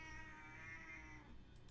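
A house cat meows in a drawn-out, tonal cry during a podcast recording, faint and fairly close, with no talk over it.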